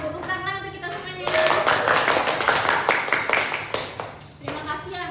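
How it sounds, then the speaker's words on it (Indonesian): Classroom group of students in a university group-guidance session bursts into clapping after brief talk, a dense burst of hand claps that holds for about three seconds before voices return. "Tepuk tangan untuk kita semuanya"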